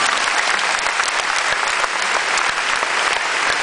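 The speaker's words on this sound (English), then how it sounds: "Could you give them a round of applause," Enthusiastic concert audience applause, a thick, continuous clapping with scattered sharp claps, loud and sustained throughout.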